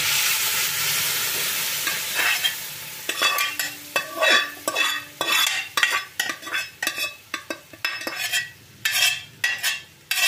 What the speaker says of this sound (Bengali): এবার আমি এর মধ্যে দিয়ে দেব সেদ্ধ করে রাখা ডাল।